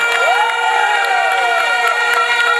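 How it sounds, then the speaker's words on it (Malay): Rally crowd at Padang Merbok cheering for a politician, loud sustained shouting and whooping from many voices, with clapping buried underneath. "Satu tepukan buat YB Nurul Izzah."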